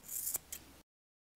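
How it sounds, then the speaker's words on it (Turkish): Scissors snip through Alize Puffy yarn close up, giving a couple of quick crisp cuts before the sound drops to silence. "makasla önce bu ipimi açıyorum"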